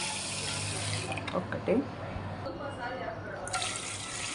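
Water is poured from a measuring glass into washed rice in a pot for lemon rice, a short splashing pour followed by softer trickles, faint under a woman's speech.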